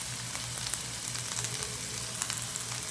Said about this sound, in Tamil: நல்லா வறுத்துட்டோம். கொஞ்சம் ப்ரௌன் ஆகட்டும்.